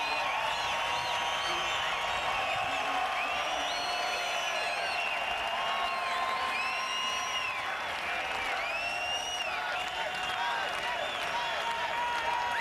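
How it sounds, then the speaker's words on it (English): A large NASCAR Nationwide Series race crowd roars and chants continuously at the Napa Auto Parts 200, a dense wall of cheering voices with rising whistles and shouts, steady and loud throughout. "listen to this crowd"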